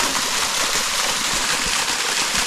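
Steady rushing water pours without pause from the Nanakura Falls, a small two-tiered waterfall by a rock stage in Ibaraki, Japan, a dense broadband roar, with no voices.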